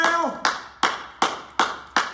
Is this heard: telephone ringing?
no